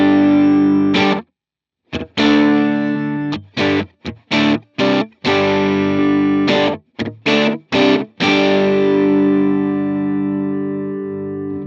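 A distorted electric guitar played through a Line 6 Helix ambience reverb: choppy rhythmic chords with sharp stops, ending in a long sustained chord that fades slowly into a smooth reverb tail.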